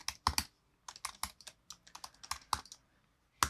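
Crisp, close keystrokes on a computer keyboard while working in Adobe Illustrator, irregular bursts of clicks with short pauses between words.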